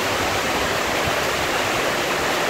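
Heavy rain pouring over residential apartment buildings in Singapore, a dense, loud, continuous hiss with no voices.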